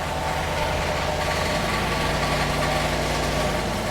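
A cheap auction truck idles after a misfire repair, a loud, steady low rumble with continuous vibration close by and no voices over it.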